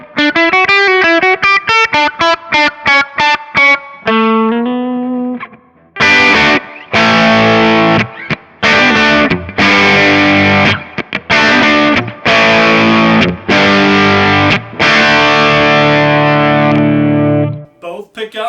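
An electric guitar plays through a Kemper booster distortion with the tone at 2.5. It starts with clean picked notes, then moves into loud distorted chords and riffs in short bursts separated by brief gaps.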